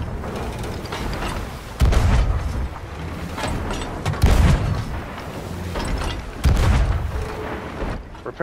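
Ship cannons in Sea of Thieves roar in a broadside during a clash between galleons and a sloop: three heavy, loud booms at a steady interval over constant creaking and rumbling at sea.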